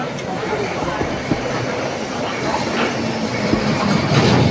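A 1972-built London Underground Bakerloo line train runs through a tunnel with a loud, steady rumble and rattle from inside the carriage, and faint wheel squeal and clatter come through the roar.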